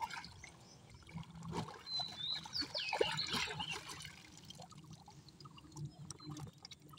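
A freshly caught crab is rinsed in water at a village fishing spot, with steady trickling and splashing close by and no talk.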